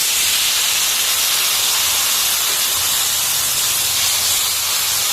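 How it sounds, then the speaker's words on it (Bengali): Water poured into a pan of frying vegetables sends up a loud, continuous steam hiss that stays steady and dense for the whole stretch, with no voices over it. "এবার একটু জল দিয়ে কিছুক্ষণের জন্য ভেজে দেবো, তাহলে সবজিগুলো সিদ্ধ হয়ে যাবে।"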